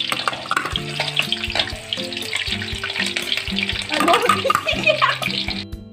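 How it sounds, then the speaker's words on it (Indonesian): Busy sizzling and crackling of garlic and ginger frying in hot oil, with stirring scrapes and a low tonal hum underneath. "Kita goreng sampai matang hingga warnanya berubah kecoklatan."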